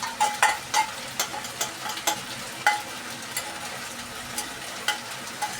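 Meat curry for kosha mangsho frying and being stirred in a pan, with a steady sizzle broken by repeated sharp scraping strokes of the spatula, close up and alone.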